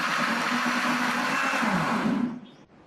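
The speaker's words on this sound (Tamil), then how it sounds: "3-4 நிமிஷமாக அரைச்சி நல்லா நைஸாக அரைப்பட்டுருச்சு" Mixer grinder whirring loudly and steadily as it blends carrot and beetroot into juice, a constant motor drone that winds down and stops near the end.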